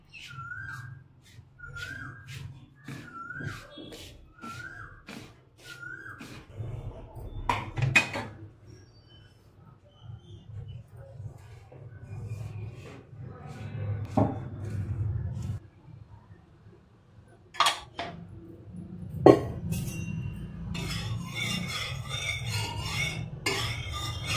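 Besan, rice flour, chutney, chili powder and salt being mixed in a bowl, giving scattered spoon clinks and scrapes throughout, with bird whistles early on and some background noise.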